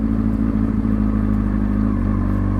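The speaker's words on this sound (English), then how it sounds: "Lock and lean and slight roll on the throttle." A motorcycle creeping along at slow speed with a slight roll on the throttle gives a steady, close, low engine drone with a faint rise in revs and no talk over it.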